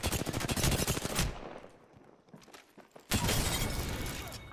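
Rapid gunfire in the Apex Legends video game comes in two loud, dense bursts separated by a quieter lull with scattered shots and noise.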